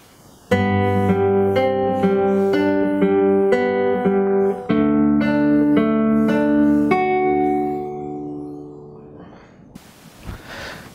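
Fingerstyle acoustic guitar plays the next phrase, a steady run of plucked melody notes over sustained bass, close and clear, the last notes fading to quiet near the end.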